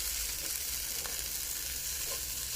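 Herbal fried rice with budu chili paste stir-fries in a pan, a dense, even hiss of frying that fills the whole moment, with a couple of faint utensil taps and no speech.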